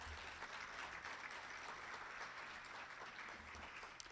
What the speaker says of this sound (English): you guys all clapped and cheered